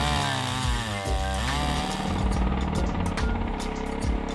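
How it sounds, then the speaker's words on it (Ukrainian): A chainsaw runs loud and close as it cuts rounds from a straight log, its engine droning steadily with pitch shifts as the bar bites into the wood. "Беремо рівну красиву колоду і робимо кілька кругляшків."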